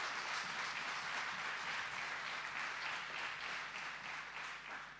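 A church congregation applauding during a Sunday service, a dense and even wash of many hands clapping that carries on steadily throughout and fades slightly toward the end.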